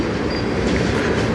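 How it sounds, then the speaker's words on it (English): A CN freight train rolls past on the Strathroy Subdivision near a yard, a dense, loud, continuous rumble of wheels and cars with no break. "This train ends here in the yard"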